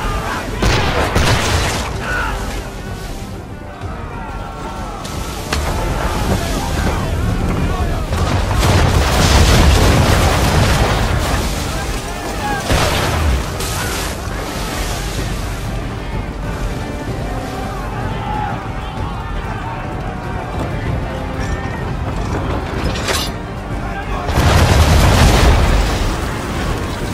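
Cannon fire and explosions from a sailing warship during a naval battle in Assassin's Creed 3, heavy booming blasts recurring through a dense, loud battle din, with one voice shouting briefly.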